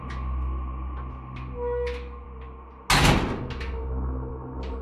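A heavy door swings shut with one loud, booming thud over a low, steady rumble, preceded by a few faint knocks and creaks.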